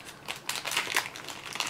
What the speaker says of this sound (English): I can't find my scissors right now, so I am just going to rip into this thing.